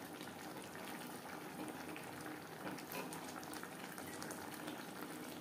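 Tomato gravy with fried sea mourola fish bubbles in a pan, a steady, soft, continuous boiling crackle and gurgle with no talking.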